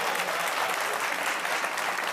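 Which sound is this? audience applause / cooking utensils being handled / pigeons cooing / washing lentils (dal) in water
audience applause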